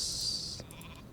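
A plague sheep bleats in the Warcraft III video game, a single short nasal bleat standing out clearly over quiet game ambience.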